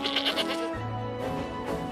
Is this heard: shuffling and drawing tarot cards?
no